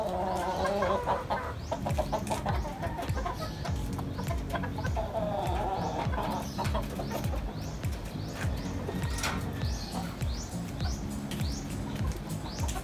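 A sweater gamecock rooster clucks and calls repeatedly, close and fairly loud, over a constant busy background of other fowl and bird noise.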